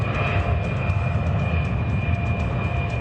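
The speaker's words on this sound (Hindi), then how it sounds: "सुखोई T-50 आवाज से दोगुनी रफ्तार से उड़ता है।" Sukhoi T-50 fighter jet in flight, a steady broad engine roar with a faint high whine running through it, sustained and fairly distant with no talking.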